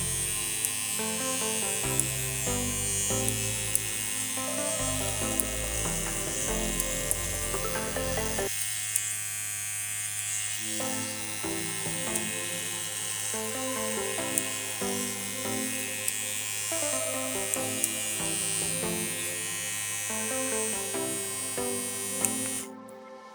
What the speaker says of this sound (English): I'll do it while the machine's running so you can actually see the needle coming out of the cartridge and also retracting